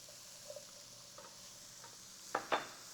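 Onions in a little extra oil give a faint sizzle in a pan, with light stirring scrapes and two sharper clinks near the end, and no voices.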